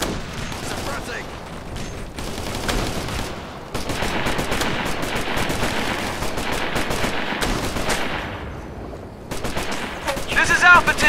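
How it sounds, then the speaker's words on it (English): Rapid automatic gunfire and single shots in the video game Operation Flashpoint: Red River, loud and sustained with dense overlapping bursts and brief pauses, under shouted voices. "This is Alpha Team! We're getting shot at!"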